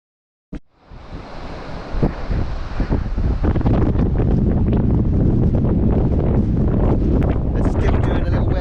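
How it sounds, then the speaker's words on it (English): Wind blows hard on the Cornish coast at Tintagel, starting after a sharp bump and building into a loud, sustained roar of microphone buffeting with surf-like rushing, continuing steadily without pause. "So far it is looking quite windy"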